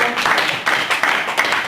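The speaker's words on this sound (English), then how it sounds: "What a stunning round of applause for our speakers there." A meeting audience claps for its speakers in a short, dense burst of applause that stays steady and fairly close throughout.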